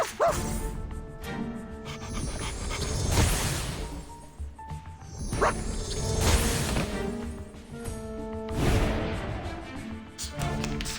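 Dog sounds in the video game Reverse: 1999 repeat in three swells of yips, whimpers and breathy panting over background game music, fairly loud and near.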